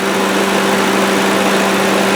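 Ford 4.6 liter single overhead cam V8 in a 2009 Crown Victoria P71 running at a steady idle, a loud, even, continuous hum with a constant drone and no change in pitch.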